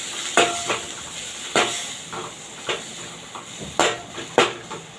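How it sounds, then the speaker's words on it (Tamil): Tomato, onion and curry leaves sautéing in a pan with fennel seeds, a soft sizzle under a handful of sharp spoon knocks and scrapes against the metal, close by. "சோம்பு பொரிந்தவுடன் 1 தக்காளி, 1 வெங்காயம், கொஞ்சம் கருவேப்பிலை போட்டு வதக்க வேண்டும்."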